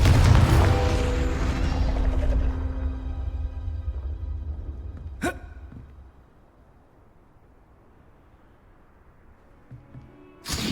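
Fiery Confringo spell explosion in Hogwarts Legacy, a loud rumbling blast that decays over several seconds, followed by a single sharp crack and a faint later thump.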